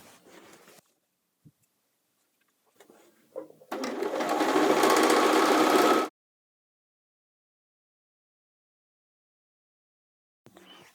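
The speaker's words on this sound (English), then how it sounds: "I'm going to sew a 1/2 inch seam allowance down the entire side of the leg." A sewing machine stitches a half-inch side seam down a pant leg in one steady burst of about two seconds. Quiet handling noises come before it and follow after.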